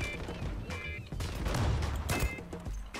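Dense gunfire bursts in the online shooter game Zula, overlapping rattling shots and impacts through a continuous busy mix of game sound, fairly loud and close. No clear talking.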